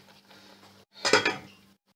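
A pot of egg curry clatters as a metal utensil scrapes and knocks against it while it is served, a short close burst of metallic clinks after a quieter stretch.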